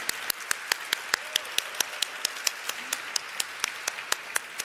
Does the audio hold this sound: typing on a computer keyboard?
no